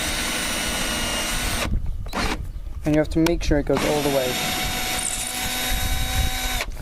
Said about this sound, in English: Just drill down.